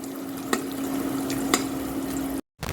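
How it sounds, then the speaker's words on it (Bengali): Banana flower fritters (mochar bora) sizzle in a pan of oil on an induction cooktop, a steady close frying hiss with a steady hum and two faint taps, cut briefly by a short silence near the end. "এবারে খাওয়ার কিছুক্ষণ আগে আমি বড়াগুলো ভেজে নিচ্ছি"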